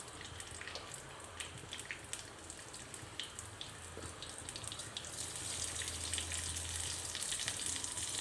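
Cumin seeds sizzling in a little hot oil in a pan for dal palak, a dense crackling and popping that grows steadily louder and hissier, heard close with no voices.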